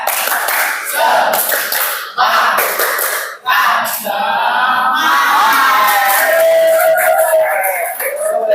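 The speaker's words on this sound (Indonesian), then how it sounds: "Terus semuanya tepuk semangat" A group performs a rhythmic clapping cheer, "tepuk semangat", with loud patterned claps broken by short pauses and mixed with shouted chanting voices.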